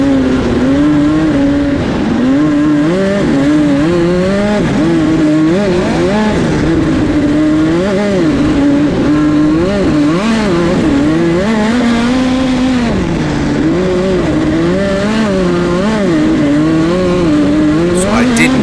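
A race car on the indoor Chili Bowl dirt track roars continuously near and loud, its engine pitch rising and falling as it accelerates and slides through the turns, with someone talking over it throughout.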